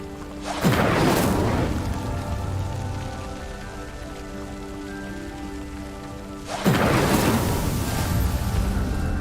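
An Incendio fire spell cast in the video game Hogwarts Legacy produces two loud, roaring whooshes several seconds apart over a sustained musical backdrop.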